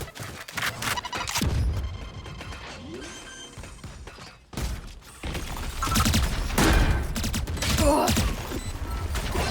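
A video game firefight: rapid bursts of gunfire mix with crashing impacts and mechanical clatter, with a short lull before heavier shooting resumes loudly.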